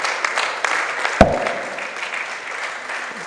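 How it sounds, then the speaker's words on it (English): An audience claps for a speaker returning to her seat at a management lecture, a moderate round of applause with one sharp louder clap, fading gradually over a few seconds. "Please give her another round of applause as she goes to sit down"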